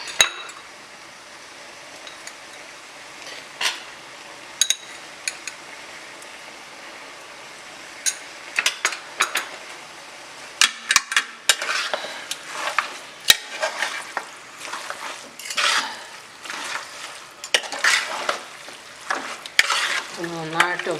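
Mutton sautéed with masala in a pan for Malabar mutton curry: repeated spatula scrapes and clinks over a soft sizzle, irregular and close, growing busier over time, with occasional faint voice.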